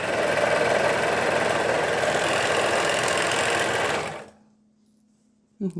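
An overlock sewing machine runs fast and steady with a loud, even mechanical whir for about four seconds, then winds down into near silence with a faint hum and a brief knock at the end.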